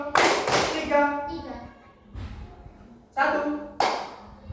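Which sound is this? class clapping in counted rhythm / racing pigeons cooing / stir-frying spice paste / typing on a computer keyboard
class clapping in counted rhythm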